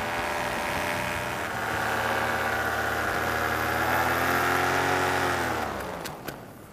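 A small aircraft's propeller engine drones steadily and loud, its pitch sliding slightly, then winds down and cuts out near the end, leaving a couple of clicks.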